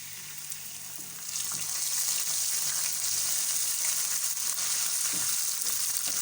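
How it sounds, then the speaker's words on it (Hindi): Ginger garlic paste sizzles and fries in a hot pan, a steady bright crackling hiss that grows slightly louder after a moment, with no talking. "अदरक लहसुन का पेस्ट अच्छी तरह से फ्राई हो गया"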